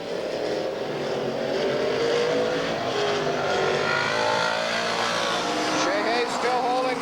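Race cars at Redwood Empire Raceway (Ukiah Speedway), 1985 Ben Chapman Memorial: a steady, loud engine roar fills the clip, with rising and falling pitch sweeps as cars pass.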